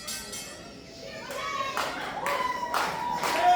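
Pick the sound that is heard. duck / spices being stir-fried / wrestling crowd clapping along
wrestling crowd clapping along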